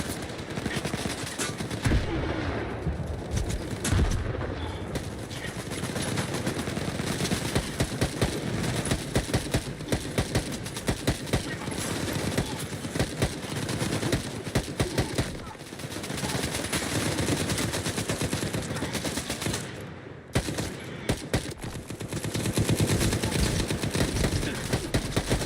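Sustained automatic gunfire from a weapon in S.T.A.L.K.E.R. 2, rapid loud bursts repeating almost nonstop over a dense, noisy background with brief pauses.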